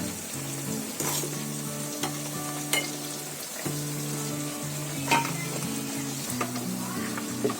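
A constant, vigorous sizzle of layered pastries deep frying in oil in a wok, with occasional clinks of a utensil and a low steady hum underneath.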